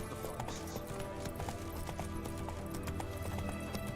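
Roach, the horse in the video game The Witcher 3, galloping with a steady, rapid clip-clop of hooves, continuous and fairly loud over the game's background sound.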